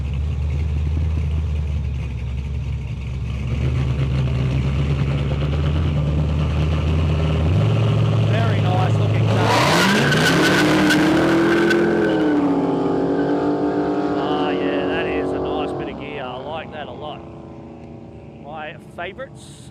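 A yellow 1955 Chevy drag car on a no-prep airstrip idles and rumbles, then its engine screams hard into a rising wail as it launches and accelerates away, fading into the distance while a commentator talks over it.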